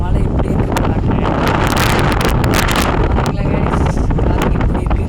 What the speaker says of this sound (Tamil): காற்று எப்படி இருக்குன்ட்டு இந்த அளவுக்கு காற்றடிக்குது.